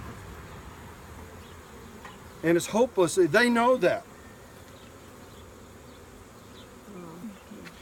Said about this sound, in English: I got this bee flying in my face. This colony is aggressive